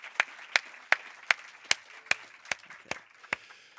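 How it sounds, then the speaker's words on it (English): Sharp, separate claps from an audience at a live event land at a steady pace, roughly two or three per second, like a single person or small group clapping in rhythm. "Let's hear a round of applause for Eric Nakamura"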